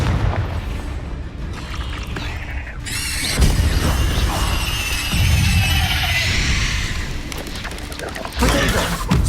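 A Confringo blasting-spell explosion in the Hogwarts Legacy video game, a loud booming burst that swells and sustains for several seconds amid other combat spell effects, with a voice shouting spells.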